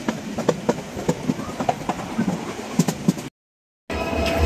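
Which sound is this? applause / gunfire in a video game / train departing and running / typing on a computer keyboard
train departing and running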